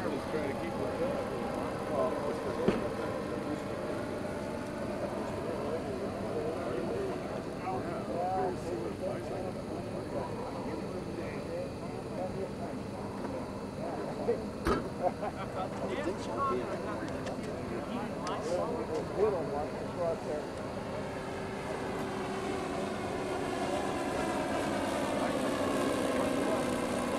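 B-25 bomber engines droning steadily in the landing pattern at a fly-in, a continuous rumble with the gear down, heard throughout beneath people talking nearby.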